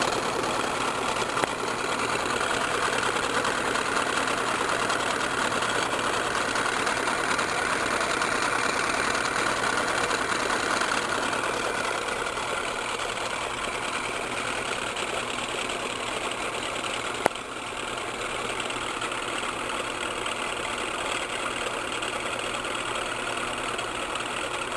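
A three-phase AC induction motor spins steadily at speed on a bench, giving a continuous, even hum with constant mechanical whir throughout, near and moderately loud, with one brief click partway through and no talking.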